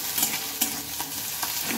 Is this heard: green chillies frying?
yes